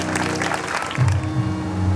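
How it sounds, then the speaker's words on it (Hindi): Applause from the audience at a Hindu devotional jagran, a steady patter of clapping that blends with amplified music and a sustained low tone from the sound system. "एक बार साउंड वाले भैया के लिए जोर ताली बजा दीजिए"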